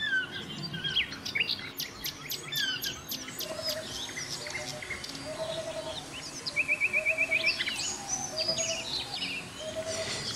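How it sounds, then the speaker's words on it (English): Many birds singing and calling in a deep jungle, with overlapping chirps, trills and repeated whistled phrases throughout, some near and some farther off, steady and dense with no talking. "the beautiful birds whose songs were the very fabric of the forest"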